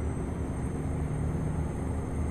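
A truck engine in Euro Truck Simulator 2 hauls an 87-ton trailer up a slight incline. It gives a steady, low, heavy drone with a constant hum throughout.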